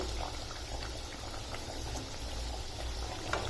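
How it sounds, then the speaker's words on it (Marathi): Chana dal vadas deep-frying in oil, a steady close bubbling and fizzing that runs evenly throughout with a few small pops. "आता याला उलटं करून घेऊया आपण आणि छान गोल्डन ब्राऊन होईपर्यंत तळून घ्यायचे याला"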